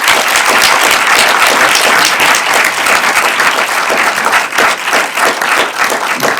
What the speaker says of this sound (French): ils méritent tous vos applaudissements quand même